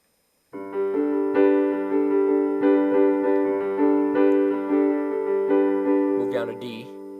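A piano plays the left-hand part of a song, sustained low chords moving under a gently repeated pattern, close and clear, fading into a short handling noise at the end.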